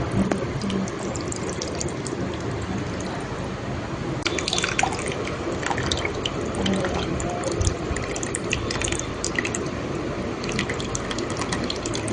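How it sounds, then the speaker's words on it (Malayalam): Tamarind water pours into a pot for a spicy chicken dish, a continuous close splashing and trickling stream with scattered drips. "ഇനി ആ വെള്ളം ഇതിലേക്ക് ഇടാം"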